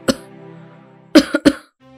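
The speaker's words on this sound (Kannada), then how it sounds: "ಕೆಮ್ಮು ನಿಲ್ತಾನೆ ಇಲ್ಲ" An elderly woman coughs hard at night: a sharp cough, then a drawn-out groaning voice, then a rapid cluster of three harsh coughs, close and fairly loud.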